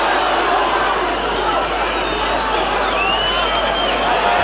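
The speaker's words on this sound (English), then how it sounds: "The Bournemouth crowd right on their toes now." Bournemouth football crowd at a December 1988 home match against Blackburn Rovers, a steady roaring wall of cheering and whooping that holds unbroken throughout, with a few rising whistles cutting through near the end.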